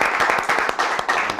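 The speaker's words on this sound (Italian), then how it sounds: "facciamo un applauso a questi ragazzi" A studio audience claps for a group of young football players, including a 14-year-old midfielder, with brisk, close, sharp handclaps in a quick uneven rhythm throughout the short burst.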